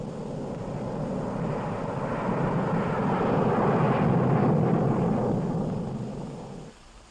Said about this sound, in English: Specially instrumented aircraft fly the tests that verify what happens inside a weapon